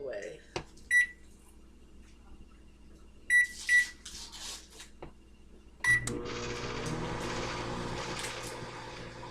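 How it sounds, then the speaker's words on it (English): A microwave oven runs with a steady hum while melting butter in a home kitchen, preceded by several sharp beeps from the keypad and a brief door clunk, with a few quiet voices early on. "I'm just melting mine in the microwave."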